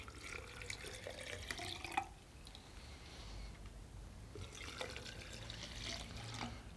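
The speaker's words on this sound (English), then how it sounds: "So as you see, as I add the water, there's a plume of dust that just comes up." Water poured from a hose or tap into powdered concrete slurry waste, a faint steady trickling and splashing with a couple of brief clinks, quiet and continuous throughout.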